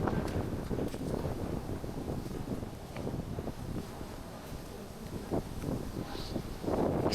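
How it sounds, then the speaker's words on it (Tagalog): Strong wind buffets a microphone outdoors in Tokyo on a cold December day, making a constant close, rough rumble that runs through the whole stretch with no clear voices. "Sobrang lamig. Lakas ng hangin kasi."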